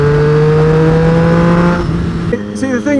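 A Triumph Street Triple R motorcycle engine holds a steady, loud tone for most of the stretch, then shifts and fades toward the end as other sounds take over.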